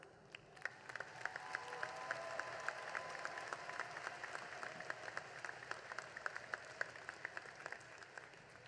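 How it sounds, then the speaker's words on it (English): A commencement audience applauds with dense, continuous clapping that stays steady, distant and fairly quiet throughout. "You have all earned this moment and deserve a round of applause."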